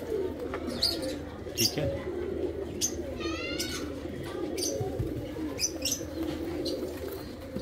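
Teddy pigeons coo softly in a loft, low throaty rolling calls under continuous nearby talk, with a few brief chirps and wing flutters mixed in.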